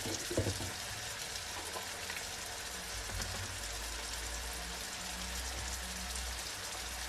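Spices roast in a pan with a quiet, continuous crackling sizzle, faint and even throughout, with a slightly louder clatter at the start.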